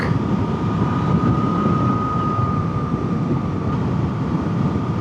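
A Suzuki GSX-8TT motorcycle engine hums steadily while riding, a constant loud drone with a thin sustained tone under heavy rushing wind noise and no pauses.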